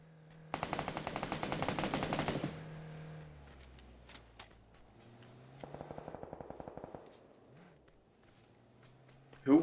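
Two bursts of automatic gunfire in PUBG on Xbox, the first a loud sustained rattle of rapid shots and the second a quieter, more distant burst, with faint ambient sounds between them.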